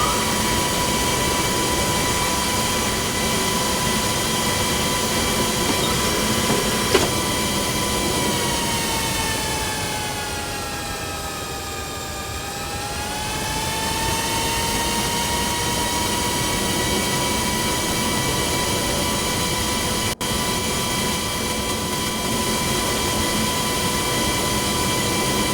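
An Airbus A320 jet bound for Jeddah roars steadily and loudly from the cabin during its takeoff, a constant engine drone with whining tones that dip and rise midway, with no voices.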